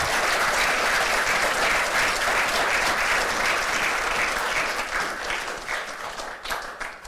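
Attendees at a funeral service applaud together, a loud, dense crowd of clapping hands that holds steady and then thins and tapers off toward the end, with no voices.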